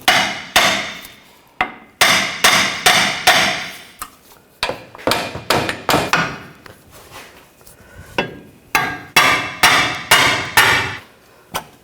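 A hammer strikes the steering knuckle of a Nissan Rogue to separate the ball joint, giving sharp metallic blows in quick bursts with short pauses between, loud and close with no talking.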